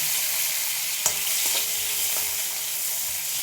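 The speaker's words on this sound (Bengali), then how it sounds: "আমি এবার কপিগুলো তুলে নেব, নিয়ে আলু ভেজে নেব" Cut potatoes sizzle in hot oil in a pan, a close, constant frying hiss broken by a few light taps of a spatula.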